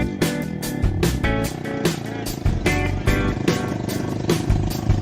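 An off-road buggy engine races through a mud puddle on a jungle trail in Roatan. The engine snarls loudly up close, pulsing as the throttle rises and falls without a break.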